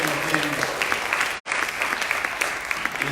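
An audience at a city council candidate forum applauds in a sustained wash of many clapping hands, briefly cutting out midway before resuming just as full, with a faint voice underneath early on.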